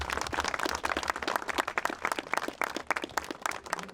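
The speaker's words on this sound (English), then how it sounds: "big round of applause for y'all because we couldn't do this without y'all" Audience claps for event partners, a loud, close round of applause with distinct individual claps audible within the crowd, thinning slightly near the end.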